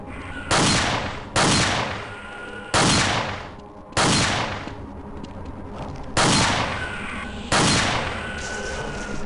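A firework-shooting alien attacks in the Half-Life: Absolute Redemption game, firing six loud explosive blasts at uneven intervals, each decaying into a roaring tail, close with no talk.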